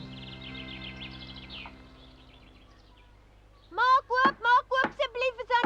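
Knocking on a door in an Afrikaans Pinocchio cartoon, a series of about eight loud, close, evenly spaced raps following a quieter stretch of fading tones.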